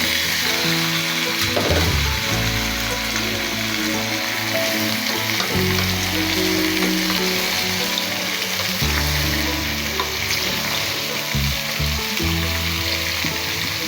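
Wild mushrooms fry with salt in an oiled pan, giving a loud, continuous close-up sizzle with occasional stirring over a steady tonal background.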